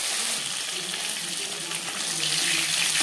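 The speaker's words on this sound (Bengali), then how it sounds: "মাছ একটা সাইড ভাজা হয়ে গেলে অপর সাইডটা উল্টে দেব।" Bhola fish fries in a pan with a dense, steady sizzle that holds at an even, fairly loud level for the whole moment, heard up close.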